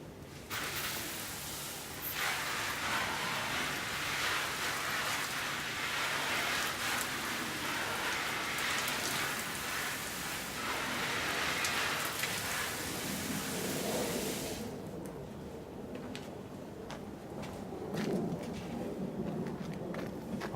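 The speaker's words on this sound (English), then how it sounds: "now I can just water that in." Steady spray of water pattering onto a repotted Maltese Beauty fig tree's leaves and soil, a continuous hiss that shifts and softens near the end, with faint bird calls in the background.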